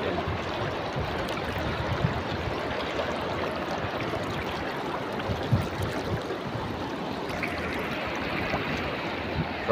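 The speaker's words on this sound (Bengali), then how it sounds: "পানি ঢেউ শুনতে।" River water laps and churns in a continuous, moderately loud wash with small swells and surges throughout and no speech.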